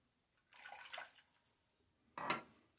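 Tap water runs in two short bursts as a razor (a Fatip Piccolo open comb) is rinsed mid-shave, the first splash longer and softer, the second a brief louder gush, with quiet pauses around them.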